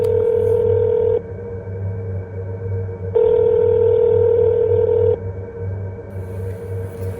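A telephone dial tone or ringback plays loud and steady, switching between two alternating tone patterns in long sustained blocks with no speech.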